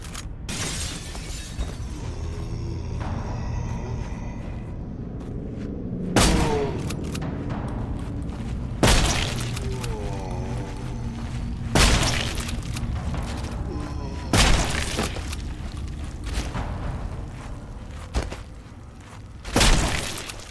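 A shotgun fires in a horror first-person shooter, six or so loud booming blasts spaced a few seconds apart over a continuous game ambience.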